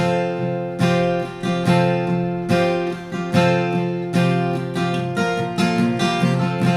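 Acoustic guitar strummed in a steady rhythm, full chords ringing with bright attacks on each stroke, close and fairly loud, no voices.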